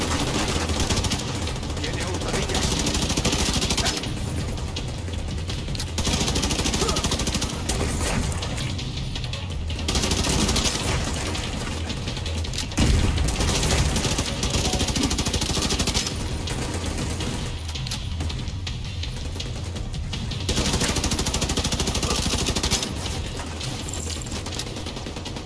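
Sustained enemy machine gun fire in The Division 2, long loud bursts separated by short pauses, heavy and continuous through the stretch with game noise underneath.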